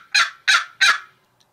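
Three quick, raspy, rising squawks in a rapid run come from a box turkey call imitating a turkey's gobble, loud and close, then silence.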